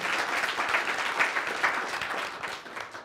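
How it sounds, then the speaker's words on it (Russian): Audience applause for colleagues at a lecture in Jerusalem on Middle East politics, a dense, steady wash of many hands clapping throughout at moderate loudness. "Еще раз аплодисмент теперь уже как коллеги."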